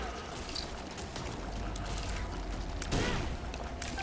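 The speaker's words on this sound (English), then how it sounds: "the exploding mushroom managed to do a heart and a half of damage" An exploding mushroom in The Binding of Isaac Afterbirth+ sets off a single sharp blast near the end, rising out of a busy stream of game sounds and music.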